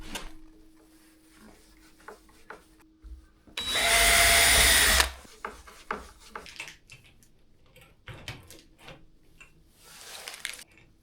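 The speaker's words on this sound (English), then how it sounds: "The drill doesn't like being cold." A power drill runs in extreme cold around -10 to -20°F, one loud sustained burst of a few seconds standing out alone, followed by scattered clicks and knocks, with no talk.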